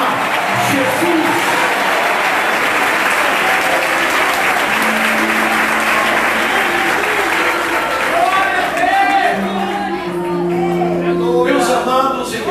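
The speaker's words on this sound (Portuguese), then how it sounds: "desocupem as suas mãos, batam palmas e glorifiquem a Jesus" A church congregation claps their hands together in a loud, sustained burst, with scattered shouts and whoops rising through it and voices singing or calling out over the clapping.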